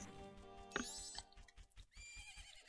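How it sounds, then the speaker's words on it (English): A horse neighs in the Zelda game Majora's Mask: a sharp, rising whinny rings out early, followed by a steady clip-clop of hooves and a few further snorts and calls, all close and clear with no talking. "Isn't that your horse?"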